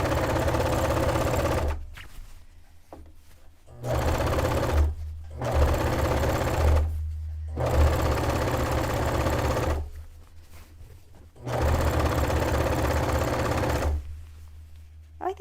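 A sewing machine gathers fabric for a dress made from bed sheets, running in several steady whirring bursts of a couple of seconds each, separated by short pauses, close and clear with no talk.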